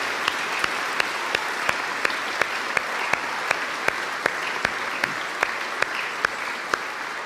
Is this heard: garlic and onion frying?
no